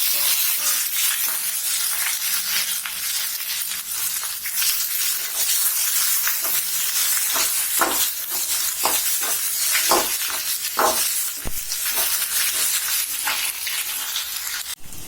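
Cut okra (lady's finger) frying in a pan, a loud continuous sizzle with repeated scraping and clinks of a spoon stirring, growing busier toward the end, no voices.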